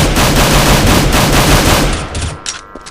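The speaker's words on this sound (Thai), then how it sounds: "อุ้ยมีการยิงกัน" Rapid automatic gunfire from Counter-Strike: Global Offensive, a loud sustained burst of shots filling the first two seconds, then tapering into a few scattered, fainter cracks.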